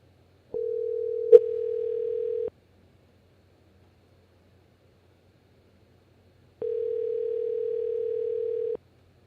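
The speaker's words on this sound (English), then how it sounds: "let me try calling back. Let me see if this will work." Two telephone tones for a callback, each a steady single-pitch tone lasting about two seconds, separated by several seconds of silence, with a brief click during the first.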